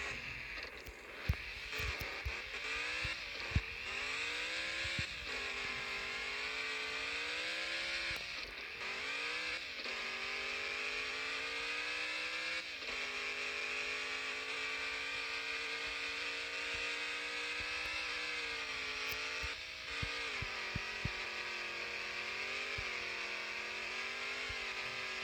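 An off-road speed buggy engine in the Off-Road Outlaws video game drones steadily and loudly, its pitch rising and falling as it revs and shifts, with occasional clunks and thumps over the sustained whine.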